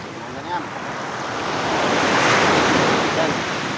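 Strong ocean waves at Baluti beach rolling in as a continuous broad wash of surf that swells gradually louder, with wind noise and no talking.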